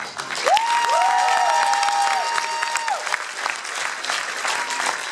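An audience at a Poprad stage show claps loudly and steadily for about five seconds, with a couple of long, overlapping whistles riding above the applause early on.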